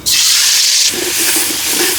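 Pomfret pieces hit hot oil in a pan, giving a loud, close sizzling hiss that drops briefly after the first second and then carries on as steady crackling with light spatter.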